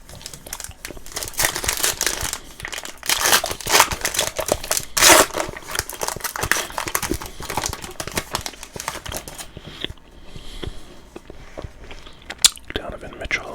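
Gum chewing up close with soft whispering, wet smacking bites and crinkling over a steady hushed voice.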